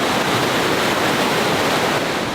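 Fresh, ice-cold mountain spring water flowing in a steady, full rush of broadband splashing, close and continuous with no voices.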